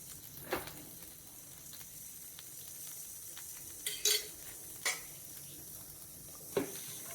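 A Mulbagal-style masala dosa fries in generous ghee on a hot pan, a faint steady sizzle broken by a few sharp clicks and scrapes of a utensil.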